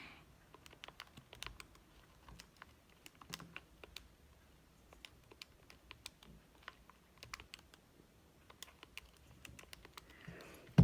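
Keys tapped on a calculator or keyboard while working through system-of-equations word problems, a sparse, irregular run of quiet clicks with short pauses, close and alone.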